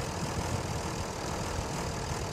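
A tractor's heavy engine in the SnowRunner driving game drones steadily at close range while the tractor works through deep mud, a dense low rumble with no talk over it.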